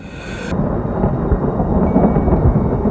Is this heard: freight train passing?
no